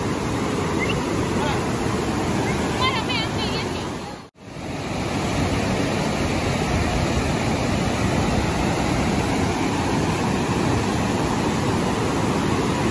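Niagara Falls thundering in a steady, loud, broadband roar of falling water, heard up close and continuous, with a brief cut partway through and faint voices beneath the rush.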